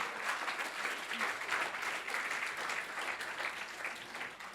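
Crowd applause at a live on-stage talk at a Dubai sneaker festival, steady dense clapping from a large audience, moderately distant and sustained throughout.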